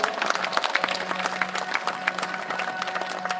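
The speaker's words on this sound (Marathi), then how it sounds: "एकदा जोरदार टाळ्या होऊ द्या" Loud, dense audience applause fills a Diwali dawn music concert hall, steady clapping with scattered cheers running continuously throughout.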